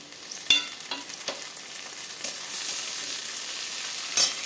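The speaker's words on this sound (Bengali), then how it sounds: "এবার দিয়ে দিচ্ছি আমি টমেটোর কুচি।" Chopped tomato dropped into a pan of frying onions with bay leaf and whole garam masala, a loud hiss flaring up, then a steady close sizzle with a few stirring clatters, no talking.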